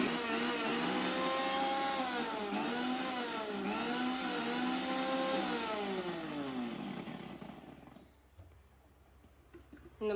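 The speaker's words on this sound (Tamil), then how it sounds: "இதில் நான் கொஞ்சம் வாட்டர் ஆட் பண்ணி இப்போ நான் அதை திருப்பியும் பல்ஸ் பண்ண போகிறேன்." A kitchen mixer grinder pulses ground spices with added water into a paste for mutton kuzhambu, its loud motor whine dipping and rising with each pulse for about eight seconds before stopping abruptly into near quiet.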